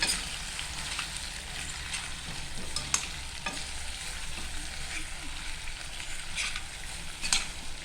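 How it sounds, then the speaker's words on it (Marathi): Stuffed brinjal frying in a pan gets stirred, with a soft continuous sizzle and faint scraping of a spoon at low level, and a few light clinks of the utensil against the pan. "पुन्हा एकदा आपण त्यांना ढवळून घेऊया."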